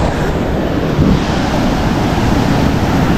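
Surf crashes and washes onto the shore in a loud, continuous roar, mixed with gusty wind noise.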